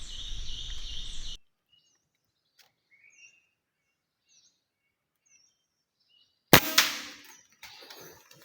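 A single sharp gunshot cracks close by after a long quiet stretch with faint bird chirps, its echo trailing off briefly; a broad, noisy rush fills the opening second.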